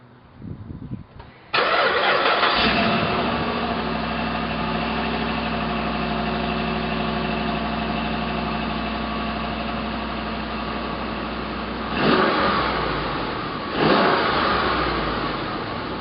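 A 2007 Dodge Ram 1500 Hemi with its stock exhaust cranks briefly and fires up, then settles into a steady, fairly quiet idle broken by two short throttle blips near the end, heard close with no talking.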